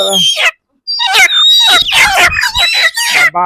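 Chickens being bought to keep at home squawk loudly while they are caught, giving a series of sharp, harsh, repeated cries with a short gap after the first burst.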